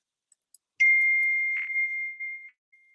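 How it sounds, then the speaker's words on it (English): Phone giving off a single sustained electronic tone lasting about two seconds, preceded by two faint clicks, with no talk over it. "My phone keeps beeping."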